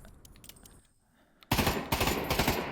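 Pavlov VR gun: about a second and a half of light clicks and handling noise, then a loud, close burst of rapid automatic fire.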